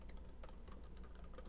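Faint, quick keystrokes on a computer keyboard patter along for a moment over low room noise.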